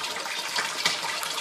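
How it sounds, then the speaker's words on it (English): Water circulating in an aquaponics sump tank, with a continuous splashing, trickling rush of close flowing water and no voices. "pump is in the sump tank down here. So this is where all the water circulates from."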